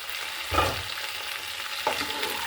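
Fish and radish cook in plenty of oil for a bhuna, giving a continuous close sizzle broken by two soft scraping stirs.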